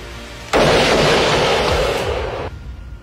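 A sniper rifle shot in a film, one sudden loud blast that holds as a dense roar for about two seconds, then cuts off sharply, leaving quiet.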